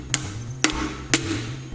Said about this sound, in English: Then I'm going to give it a nice sharp strike, get the piston pushed in